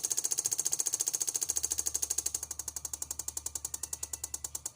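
A 2006 Aprilia Scarabeo 500cc scooter engine, just back from ECU repair, runs at lowered RPM with a rapid, even mechanical ticking pulse that slows slightly partway through, heard close and fairly quiet.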